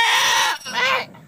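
A goat giving birth to a kid lets out a loud, drawn-out bleat that breaks briefly and resumes before fading, heard close up with no talking.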